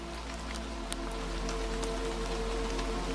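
Rain patters steadily on an umbrella, a soft continuous hiss with scattered faint droplet ticks, gentle and even throughout with no voices.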